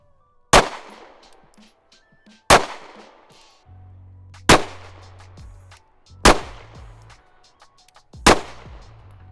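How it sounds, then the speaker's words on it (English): A gun fires five test rounds at a shooting range. Each report is a loud, sharp crack spaced about two seconds apart, with ringing decay between shots and a low mechanical hum in the gaps. "now I'm going to go ahead and load up some rounds and we're going to go test it"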